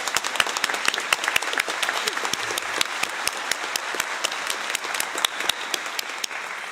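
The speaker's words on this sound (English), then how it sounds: "I think we give a round of applause to him as well." Steady audience applause fills a conference hall at a plenary session on biodiversity science, dense overlapping claps sustained throughout without a break and no voices over it.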